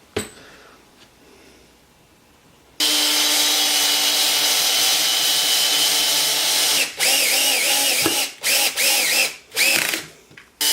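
A power drill drives screws into wooden pieces, starting after a quiet pause with a loud sustained whine, then several shorter bursts as each screw seats, close up.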